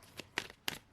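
Tarot cards being shuffled by hand, three quick riffling bursts close to the microphone, brief and crisp with no talk.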